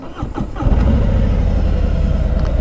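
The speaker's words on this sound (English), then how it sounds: "We start the bike." A Harley-Davidson Freewheeler trike engine cranks briefly and catches, settling into a loud, steady, close idle with a deep lumpy rumble.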